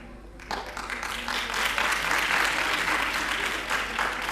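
Applause led by girl students at a college Basant Panchami celebration, starting abruptly and swelling into sustained, dense clapping from a large crowd, without speech.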